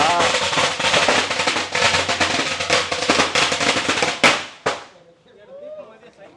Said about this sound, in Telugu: ఇక్కడ దీపం టపాసులు పెడతారా ఎట్లా?